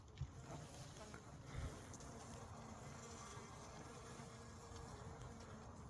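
A steady, faint honeybee hum drones throughout from a winter hive, with some low bumps and rustles near the start.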